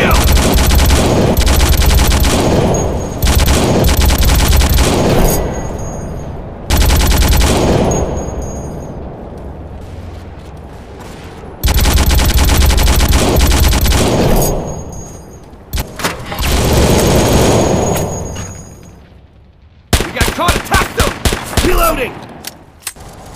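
Sustained bursts of automatic gunfire from a World War II video game, loud and dense with brief pauses, ending in a run of rapid distinct shots, with some shouting in between.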